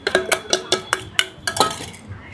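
Street vendor mixing a crispy papad snack with sesame, oil, masala and coriander chutney in a metal bowl, giving a quick run of sharp clinks and scrapes in an uneven rhythm, close and fairly loud.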